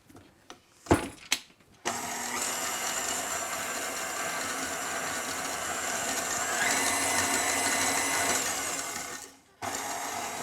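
A blender briefly mixes dry ingredients for a vegan, gluten-free yellow sheet cake, starting after a few clicks and running as a steady, loud, close whir for about eight seconds before stopping, with no talking.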